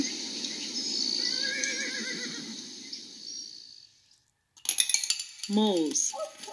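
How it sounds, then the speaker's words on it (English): Horses neigh and whinny loudly in a long drawn-out call, then a short silence falls before clattering sounds and another sharp whinny follow, close and clear. "Horses."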